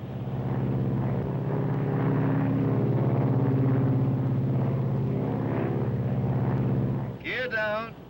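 Inside a 1953 airplane cockpit as the flaps extend, a steady, loud engine drone fills the cabin for about seven seconds before easing off, with voices talking over it.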